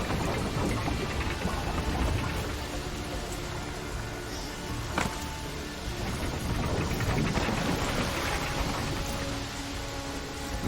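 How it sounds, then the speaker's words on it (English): Steady rain falls with a distant rumble of thunder in the video game The Witcher 3: Wild Hunt, a dense wash of downpour lasting throughout with one sharper crack partway through. "Looks like rain."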